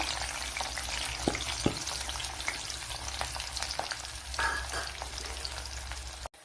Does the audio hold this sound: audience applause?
no